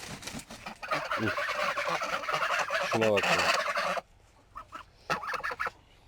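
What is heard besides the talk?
geese honking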